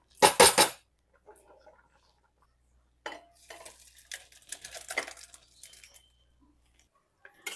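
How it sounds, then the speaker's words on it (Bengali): Boiled bottle gourd for a moong dal dish is tipped from a pan into a bowl: one sharp, loud clatter at the start, then a scatter of quieter scrapes and metallic clinks. "এরপর আমি এটা একটা বাটির মধ্যে ঢেলে নেবো"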